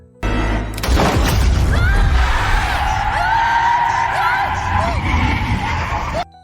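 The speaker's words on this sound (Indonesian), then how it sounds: "Kejadian itu membuat Bobby kehilangan kendali dan kecelakaan" A car swerves out of control and crashes after its tire is shot out in a film scene, a loud chaotic skid and crunching impact with dramatic whooshing effects, under a narrator's voice.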